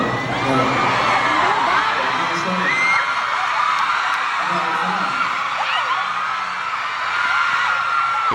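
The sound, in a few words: concert crowd screaming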